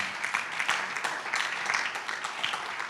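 A church audience claps during a sermon, a fairly quiet but continuous wash of many hands with scattered sharper claps, sounding somewhat distant.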